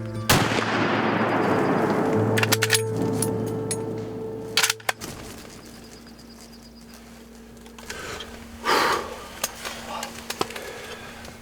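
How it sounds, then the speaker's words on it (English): A hunting rifle fires at a black bear: a sharp loud shot near the start, its report rolling away, followed by quieter outdoor sounds and faint later rustles. "And Lewis touched the trigger."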